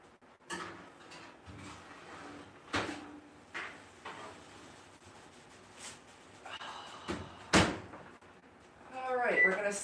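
In a home kitchen, an oven door is opened and shut with a few hollow clunks and thumps spread through a quiet room, and a voice comes in briefly near the end.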